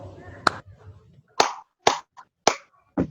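First-grade students in a classroom perform a clapping chant, a sequence of sharp, close claps in an uneven rhythm, with faint voices underneath at the start.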